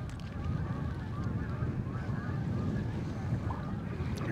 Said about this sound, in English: A whole bunch of geese just got up over there.